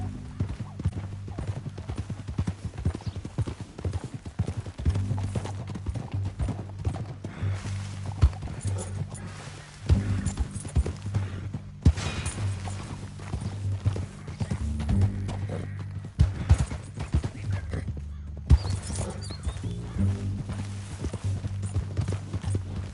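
Rapid hoofbeats clatter steadily as horses gallop in Red Dead Redemption 2, with occasional whinnies and a low rhythmic rumble throughout, loud and continuous.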